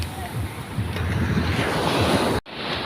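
Ocean waves wash and roar steadily off Dagupan in the Philippines, with strong wind buffeting the microphone, then a brief dropout before the surf noise resumes.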